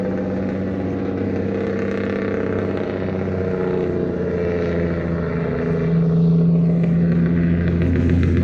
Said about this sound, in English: as this fucking old noisy truck is passing again